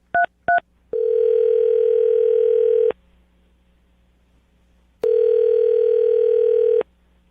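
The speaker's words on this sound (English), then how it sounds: "I'm going to dial the phone number right now" A telephone being dialed, two short touch-tone beeps followed by a steady, loud dial tone lasting about two seconds, a pause of silence, then a second identical tone of similar length.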